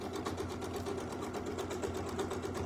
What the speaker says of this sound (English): I stitched a few stitches over